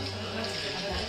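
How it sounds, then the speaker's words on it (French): Shower water runs steadily while a child's hair is rinsed before shampooing at home, a broad, even hiss of spray close by, with a low rumble from the flow and a voice speaking softly beneath it. "tu vas prendre la douche, tu vas être mouillé"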